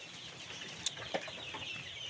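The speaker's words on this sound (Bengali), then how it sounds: "পাশাপাশি আরও কিছু মুরগি আছে যদি আপনাদেরকে দেখাই সেটা হচ্ছে আমার এই ঘরে" Chickens in a farm house shed cluck faintly amid steady background hiss, with a couple of brief sharp calls standing out, no talking.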